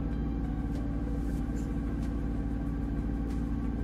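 Steady low rumble of a boat engine while cruising at about 5 knots, a continuous dense drone holding even and loud throughout with no pauses.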